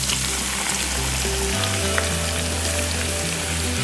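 Shrimp and prawns sizzle in a hot pan, a dense, steady crackling fry with fine spattering pops, close and continuous, with no voices.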